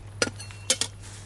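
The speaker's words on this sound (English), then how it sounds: "It's the 14 centimeter billy can." Small metal cookware handled for camping: a 14 cm billy can with a little pan nested inside, giving a few light metallic clinks and knocks, two brief clusters close by over a steady low hum.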